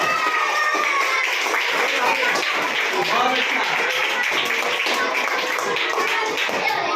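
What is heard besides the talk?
students clapping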